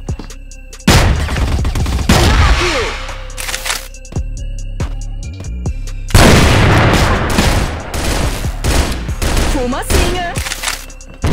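Gunfire in the shooter CrossFire on the Satelite map: bursts of rapid automatic shots and heavy booms in two loud clusters, with short quieter gaps and game effects between them.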